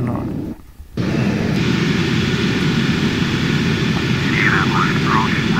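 An airplane engine drones in Flight Simulator X as the aircraft lands, a steady loud roar after a brief dip at the start, with talk over the top partway through.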